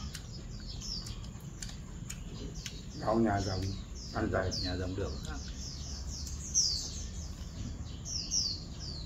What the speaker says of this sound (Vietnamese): ngoài nắm chim nhỉ díu dít hôm nay thời tiết đẹp chim về nhiều